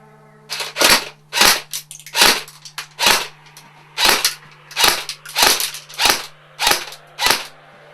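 A WE M4 RIS airsoft electric gun fires on semi-auto, giving about a dozen sharp, close, separate shots at an irregular pace of roughly one every half second.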